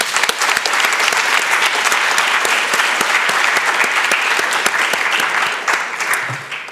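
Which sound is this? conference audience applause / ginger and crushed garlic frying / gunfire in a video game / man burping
conference audience applause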